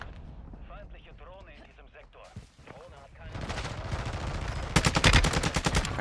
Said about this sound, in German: Oh, ich wurde noch angesniped von irgendwo.